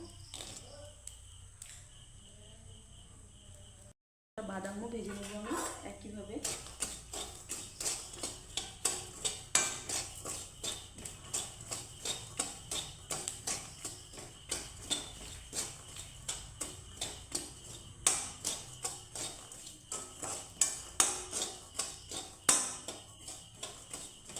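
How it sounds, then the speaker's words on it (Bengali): Peanuts rattle and tick steadily against a dry pan as they roast without oil, a quick, even patter of small clicks continuing for many seconds after a short pause. "এখন কিছুটা বাদাম ভেজে নেবো"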